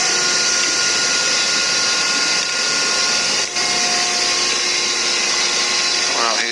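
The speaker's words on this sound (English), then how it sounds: "It's the hydraulic pump." Hydraulic pump of a grinding machine, with its grinding wheel and spindle, running loud and steady with a dense whirring hum and faint tonal whines, a brief dip midway.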